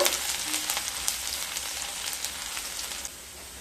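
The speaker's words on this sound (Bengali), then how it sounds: "রসুনটাকে হালকা ভেজে নেব" Chopped garlic frying lightly in a pan with cumin and curry leaves, a close steady crackling sizzle with scattered pops that softens near the end.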